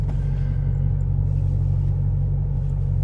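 A vehicle with automatic transmission idles and pulls away, a steady, loud, low engine rumble close by with no gear shifts and no talking.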